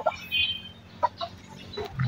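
Farm hens clucking in short, scattered bursts, close and fairly clear, with a few sharper squawks among soft ambient noise.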